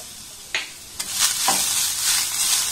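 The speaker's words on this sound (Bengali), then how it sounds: "আবারও সমস্ত উপকরণ খুব ভালোভাবে নাড়াচাড়া করে আমি ভেজে নেব" Vegetables with grated carrot and green chillies stir-fry in a pan, a few sharp scrapes from a spoon followed by a rising, steady sizzle.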